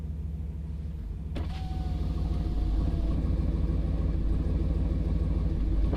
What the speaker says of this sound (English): Now listen to this truck next to me.